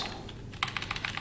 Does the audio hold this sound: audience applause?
no